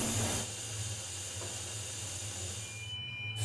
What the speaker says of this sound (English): We're going to put some steam in here